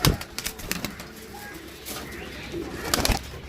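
A Kasuri pigeon coos in short low bursts with a few wingbeats, close by, amid faint background noise.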